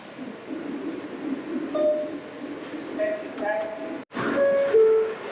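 A Manhattan-bound R subway train in New York City hums and rumbles underground with clinking metal and a few tonal chimes, one brief break in the noise, then the rolling continues.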